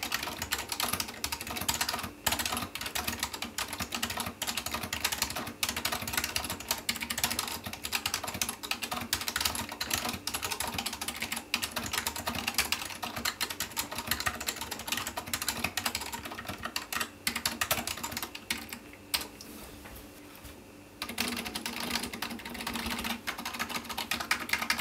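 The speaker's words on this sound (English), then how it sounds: "with a claim of world's quietest mechanical keyboard, we want to compare it to other key switches" Continuous rapid typing on a Matias Mini Quiet Pro mechanical keyboard with quiet switches, a dense stream of soft, muted keystrokes heard close and alone for the whole stretch.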